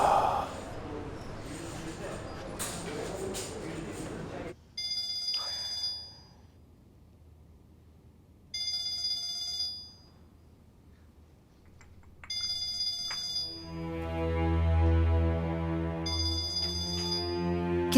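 A phone rings in a tense domestic drama scene, its electronic ringtone repeating in regular bursts with pauses between them, after a stretch of noisy voices and movement at the start.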